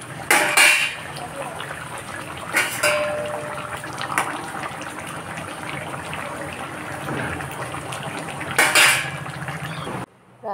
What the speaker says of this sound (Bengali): কড়াইয়ের থেকে উঠিয়েই তরকারিটা দিয়ে দিলাম